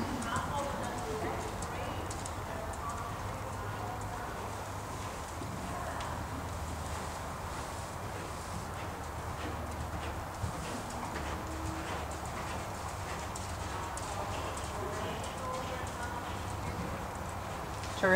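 A horse cantering during a riding clinic lesson, its hooves clip-clopping in a steady rhythm across the whole stretch, moderately near, with an instructor talking over it throughout.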